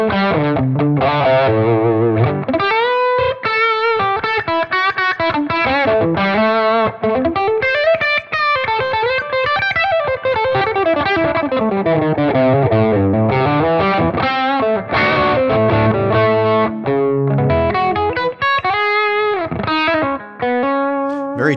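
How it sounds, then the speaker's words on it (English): An electric guitar played through a Klon-style overdrive at its highest gain setting, modeled on a Tonex, gives a loud, sustained, distorted tone with chorus-like shimmer, running as a continuous melodic phrase of bends and held notes with no talking. "moving on to the Klon Ultimate 4, which is the highest gain setting that I modeled off of that pedal"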